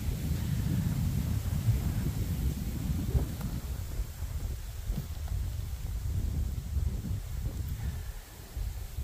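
Low, steady outdoor rumble of late-afternoon wind at a lake buffeting the microphone, with no voices and gentle swells in loudness.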